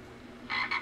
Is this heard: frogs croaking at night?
yes